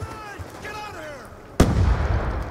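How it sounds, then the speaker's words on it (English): Shotgun fire in Black Ops 2: a brief spoken voice, then one sudden loud blast that rolls off into a lingering rumbling tail. "Shotgun."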